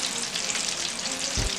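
Popcorn chicken fries in a small fryer, a steady close bubbling sizzle of hot oil, with a brief low thump near the end.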